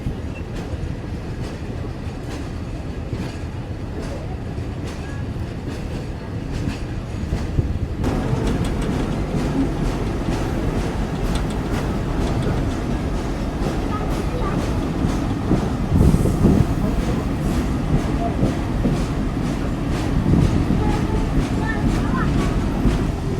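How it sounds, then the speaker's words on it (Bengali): Steady rumble and rattle of the Mongla commuter train rolling along the rails after leaving Chulkathi Bazar station in Bangladesh, growing louder partway through, with rhythmic clacking under a constant low roar. "চুলকাঠি বাজার রেলওয়ে স্টেশন থেকে ডিপার্চার সম্পূর্ণ করলাম"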